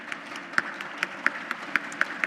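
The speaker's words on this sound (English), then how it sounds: "Let's give them a round of applause" Audience at a leadership assembly applauding panel speakers: a fairly quiet wash of crowd clapping with distinct single claps standing out at a steady pace throughout.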